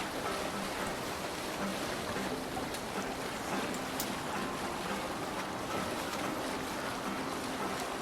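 A sailing boat moving across open water in the video game Assassin's Creed Valhalla, with a steady wash of waves and rushing water continuing evenly throughout, no voices.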